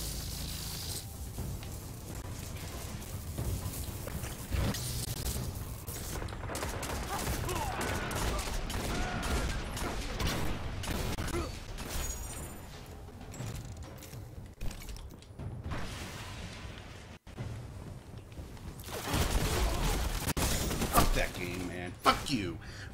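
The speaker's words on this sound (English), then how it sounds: "I shot him in his fucking head!" Gunfire in a Destiny skirmish match, with bursts of shots and clattering weapon mechanics across a busy firefight, fairly quiet overall, with a louder flurry of shots near the end.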